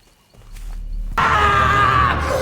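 A loud, sustained scream from a character named Wesley in a horror film breaks out suddenly after a low rumble and rings on strongly to the end.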